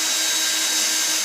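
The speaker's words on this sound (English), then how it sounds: "Now we will pre-drill the eave trim." Power drill pre-drilling rounded eave trim on a budget building, a steady high whine held without a break at close range, with no talking.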